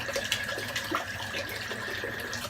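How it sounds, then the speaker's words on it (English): A razor is rinsed under running tap water during a shave: a steady, close rush of water with small splashes and knocks, fairly quiet throughout. "I'm going to rinse this out on that side."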